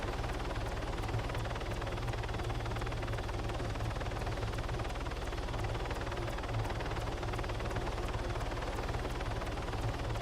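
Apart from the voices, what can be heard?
helicopter flying in a video game (Warlords Redux)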